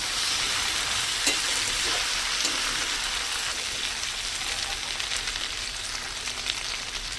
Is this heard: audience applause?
no